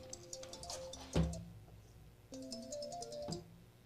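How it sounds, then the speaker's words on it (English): A phone ringtone for an incoming call plays as a soft repeating melodic pattern, two short ring phrases separated by a pause, moderately quiet with no talking over it. "Have a phone call."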